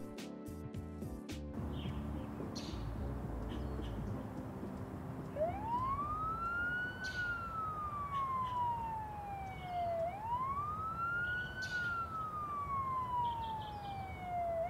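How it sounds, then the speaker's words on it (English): Police car sirens wail through city streets in Newark and Elizabeth, New Jersey, two rising-and-falling sweeps repeating over a steady low traffic rumble, loud and fairly near after a brief opening burst of noise. "Police sirens ring throughout the streets of Newark and Elizabeth"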